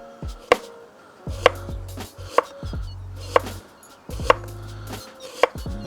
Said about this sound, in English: I'm going to put the onion in half, and that gives us a nice sturdy base to try and get some nice thin slices from.